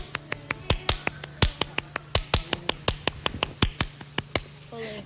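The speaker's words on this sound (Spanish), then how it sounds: "toca las palmas un poquito que te oigan" A child's sharp flamenco palmas, crisp hand claps in a quick, steady rhythmic pattern, about twenty close claps over several seconds, ending with a short voice.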